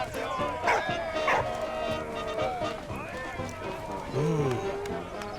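A dog barks and yips in the video game Valiant Hearts, a few short sharp barks early on and whimpering later, set against steady game music and ambience, with speech over the top.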